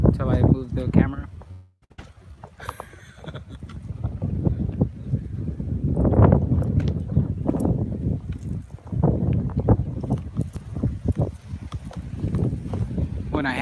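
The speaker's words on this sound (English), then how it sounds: "I pretty much just came outside so you guys can hear the wind" Wind blows outdoors, buffeting the microphone in loud, uneven gusts that roar and ease over a long stretch, with a brief lull near the start.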